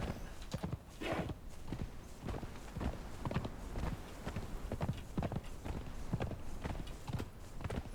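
Horse hooves clip-clop steadily at a walking pace in the video game Conan Exiles, a close, even rhythm of soft thuds carrying on throughout with faint background sound.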